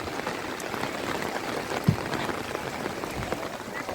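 Steady rain falls around a Hindu temple, a dense even hiss of drops on surfaces with one brief louder knock midway; no talk is heard over the constant downpour.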